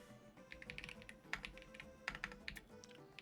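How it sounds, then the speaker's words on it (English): Quick bursts of keystrokes on a computer keyboard, close and fairly quiet, typing a short search term in irregular clusters of taps with no talking over them. "I'm just going to type in Lucario."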